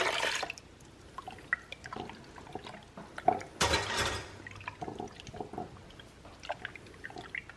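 Cold water, one and a half cups, poured into Skittles-flavored gelatin mix, with dripping and splashing bursts and a louder gush near the middle, close by and without speech.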